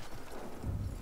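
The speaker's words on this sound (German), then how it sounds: "dann zeige ich hier auch mal Pferdchen reiten" A horse's hooves clip-clop in Battlefield 1, cavalry riding through desert, a quick faint patter of steps under the game's background noise.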